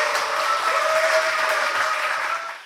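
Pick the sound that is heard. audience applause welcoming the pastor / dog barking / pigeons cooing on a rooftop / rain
audience applause welcoming the pastor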